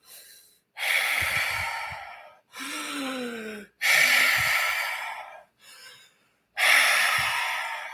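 Open-mouth, open-throat spiritual breathing: a series of loud, rushing breaths in and out through the mouth, separated by short pauses, close and alone.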